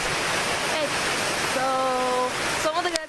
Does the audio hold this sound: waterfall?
yes